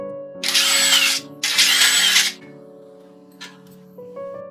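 Two bursts of a power tool zipping out the brake caliper bolts on a 2nd-generation 2007-2013 Toyota Tundra, each about a second long, loud and close, followed by a faint short whir, with a steady hum running underneath.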